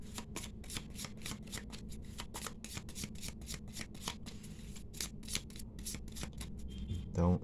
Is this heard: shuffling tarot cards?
yes